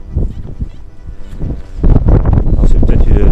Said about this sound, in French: désolé pour le vent, ça va souffler un peu